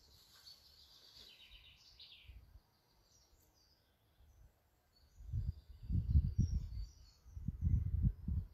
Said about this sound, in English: listen to those beautiful birds this morning